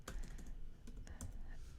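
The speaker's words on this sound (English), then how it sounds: "I'm typing curriculum" Quick bursts of typing on a computer keyboard, soft irregular key clicks close up, several taps clustered together with brief gaps, fairly quiet and with no talk.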